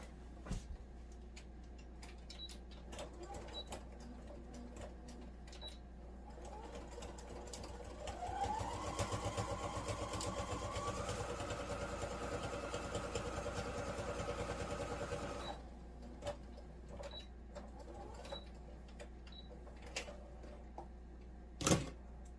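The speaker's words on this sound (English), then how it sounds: "So I'm just going to sew this on the machine quick." A sewing machine stitches fabric for a craft gnome, running in one steady whirring burst of several seconds amid quiet handling clicks before and after.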